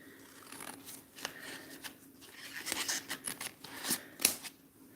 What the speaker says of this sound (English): So I'll grab another one and cut it in half.